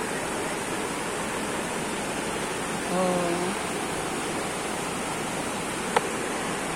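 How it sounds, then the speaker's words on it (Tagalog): Rushing water beside a house, a steady broadband roar throughout with a short voice exclamation partway through and a small click near the end. "Galing ng ragasan ng tubig."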